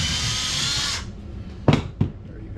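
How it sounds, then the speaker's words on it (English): A power drill bores through taped material while a fluid bed for painting jigs and sinkers is built: a loud, steady whine for about a second that cuts off, followed by two sharp knocks. "Take your drill. Drill through, all the way through,"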